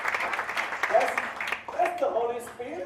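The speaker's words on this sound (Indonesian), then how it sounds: "jadi tepuk tangan bagi Tuhan" A church congregation claps steadily in a dense, continuous patter while voices and music carry over the top.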